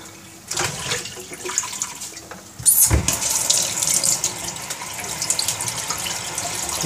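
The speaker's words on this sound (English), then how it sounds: "Rinse that off." Tap water runs steadily into a sink while something is rinsed off during goat milk soap making, starting faintly and then swelling into a loud, continuous splashing stream after a brief burst near the three-second mark.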